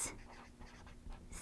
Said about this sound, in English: So I'll write Jesus creates,